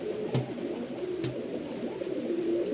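A pair of Lokkha pigeons coo softly and repeatedly at close range, their low, throaty calls continuing through the short stretch without any voices.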